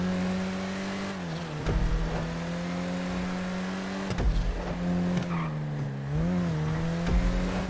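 Race car engine in Grand Theft Auto V holding a high steady drone with repeated gear-shift dips and brief tire squeals, close and continuous during a long race.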